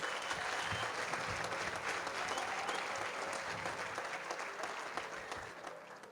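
Sustained, dense applause from a crowd at an awards dinner, heard from some distance and holding steady before easing slightly at the close.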